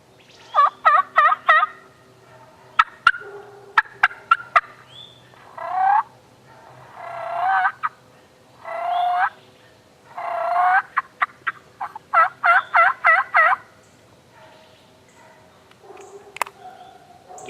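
A raspy Yelping Anarchy turkey call sounds in bursts of sharp yelps, some quick strings of clipped notes and some drawn-out rough yelps, loud and close with short pauses between series and no voices.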